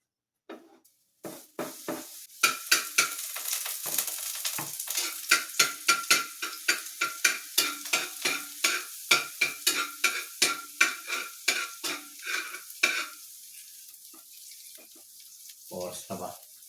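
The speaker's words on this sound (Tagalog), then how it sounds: "Lalagay na natin itong bawang." Garlic sizzles and fries in a pan for fried rice, with a steady run of sharp rhythmic scraping stirs close up, loud and busy, easing off near the end.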